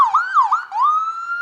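A Clark County ambulance siren from a new rig, number 2, at a Willow Lake homecoming parade wails up and down a few times, then holds a steady tone, close and loud.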